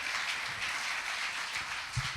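A church congregation claps together in a steady, dense wash of applause, fairly loud and continuous throughout, with no talking over it.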